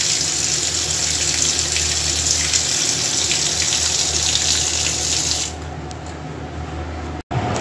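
Tap water gushes loudly and steadily into a basin to soak a stone grinding slab and roller in a home kitchen, then abruptly cuts off near the end.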